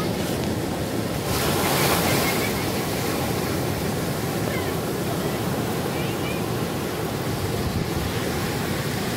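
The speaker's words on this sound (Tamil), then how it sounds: "இந்த பாறைகளுக்கு நடுவில் வந்து அப்படியே கடல் வரும்." Sea waves surge between rocks at Kurumpanai beach in Kanyakumari, a continuous rushing wash mixed with wind noise, loud and close throughout.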